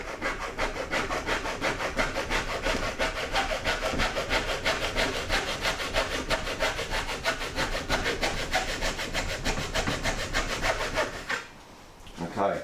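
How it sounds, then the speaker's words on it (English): Fine-toothed metal-cutting hacksaw sawing through plastic trim, a steady rapid back-and-forth rasp that runs without pause for about eleven seconds before stopping abruptly. "now I'm using a hacksaw"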